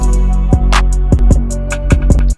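A trap beat made in FL Studio, without parallel compression, with a booming low bass, punchy snare hits and crisp, rapid hi-hat ticks repeating in a steady pattern.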